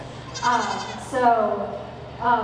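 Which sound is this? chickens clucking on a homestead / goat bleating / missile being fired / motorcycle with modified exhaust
goat bleating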